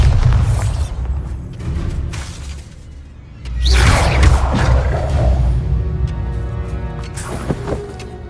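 A Bombarda spell explosion in Hogwarts Legacy: a whooshing cast followed by a sudden loud boom and shattering burst, then a long rumbling tail of debris settling, with no talk.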